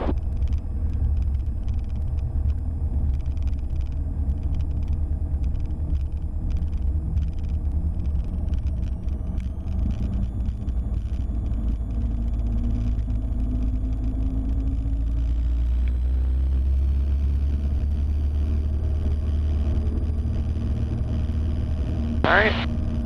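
A Cessna 172 engine roars at full throttle through its takeoff roll, a loud continuous drone with a slowly rising pitch that fills the whole stretch, with faint cockpit voices beneath it.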